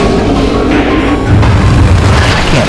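Missile explosions in the Metroid Prime video game, a loud sustained rumbling boom with heavy low-end roar filling the whole stretch, swelling slightly partway through, with no talking.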